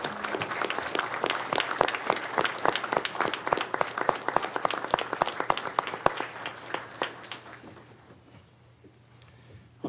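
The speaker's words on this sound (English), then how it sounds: "I'd like to give a round of applause in the memory of these fantastic women" Audience applause at a county commissioners business meeting: a sparse room of people clapping, crisp individual claps fairly close, continuing for about eight seconds before fading out.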